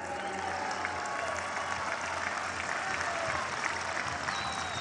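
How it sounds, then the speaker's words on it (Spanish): Steady, dense applause from a large audience at a Mexican government's fourth annual report address, continuous and fairly loud throughout without pause. "Aplausos."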